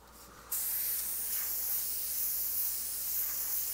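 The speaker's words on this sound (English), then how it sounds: "I'm aiming my airbrush downward at this point so that I'm not blowing paint underneath the mask on the top" An airbrush sprays paint in a steady, close hiss that begins abruptly after a short quiet start and holds evenly to the end, with no talking.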